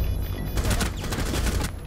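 Rapid gunfire from a tactical shooter video game crackles in a dense, continuous fusillade of overlapping shots for about two seconds, fairly loud with no talk.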